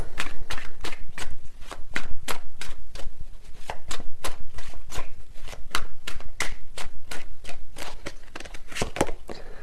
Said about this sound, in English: These cards are flying out.